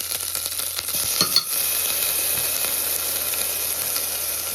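Mustard seeds, cumin, fenugreek, bay leaf, curry leaves and chilies sizzle in hot oil during tempering, giving a steady loud frying hiss with a brief sputtering burst near the start, with no talk.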